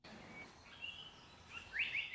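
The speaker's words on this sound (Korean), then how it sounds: "주인공은 긴 꼬리 딱새." A Japanese paradise flycatcher calls in a forest on Hallasan. Thin, high chirps come faint and scattered at first, then grow louder in a short burst near the end over quiet woodland ambience.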